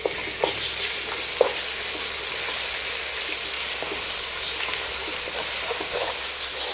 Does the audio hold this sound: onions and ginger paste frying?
yes